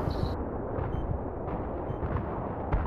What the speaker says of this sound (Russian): Танк выстрелил.